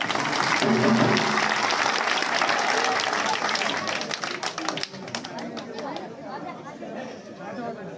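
A crowd at an outdoor village gathering in Haryana claps amid loud, dense chatter, with sharper scattered claps and taps toward the end as the noise thins.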